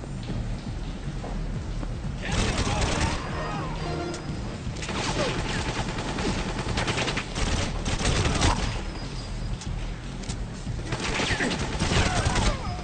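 Gunfire rattles in GoldenEye 007 on the Wii, with dense, crackling bursts of shots rising and falling in waves across the whole stretch, loud and close.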